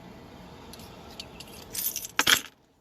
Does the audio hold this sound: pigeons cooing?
no